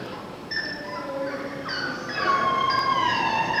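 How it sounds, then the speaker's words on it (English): Several dogs seized in a police raid on a home give high, drawn-out whines and howls that overlap and build louder toward the end, with no talk. "These are some of the dogs RCMP seized from the home of Nini Gillies in Timberley"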